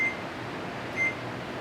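A kitchen timer being set for baking biscuits gives two short high beeps about a second apart over a steady background hum.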